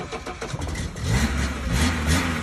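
Formula 1 car engines roar at the Brazilian Grand Prix in São Paulo in the rain, a dense, loud wash of engine noise with rising revving tones blending together without pause.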